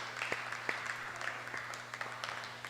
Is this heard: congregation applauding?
yes